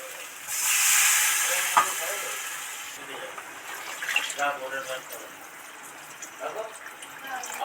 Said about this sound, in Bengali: মশলা সব তো ভাজা ভাজা হয়ে গেছে দারুণ একটা ফ্লেভার বেরিয়েছে এবার এর মধ্যে জল দিয়ে দেব